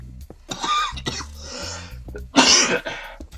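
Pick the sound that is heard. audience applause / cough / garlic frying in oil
cough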